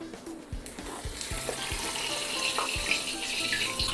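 Fried small river fish are poured from the wok into a strainer to drain the oil, giving a continuous close sizzle and liquid splatter with a few clinks of metal.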